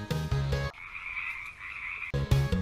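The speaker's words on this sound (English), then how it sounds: "F is for frog." A frog croaks in a steady buzzing call that sits alone between two bursts of bright animated music, loud and close.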